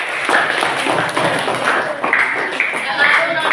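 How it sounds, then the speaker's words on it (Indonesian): A classroom audience claps for a student group at an Indonesian university civics lesson, a steady dense patter of many hands filling the room for a few seconds, with voices mixed in. "Beri tepuk tangan untuk kelompok 2."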